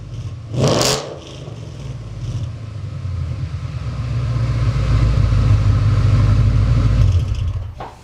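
A Ford Mustang with a J-pipe exhaust, not fully warmed up, idles with a low rumble before a quick sharp blip, then a longer rising rev that swells and holds before dropping back, heard up close with no talking.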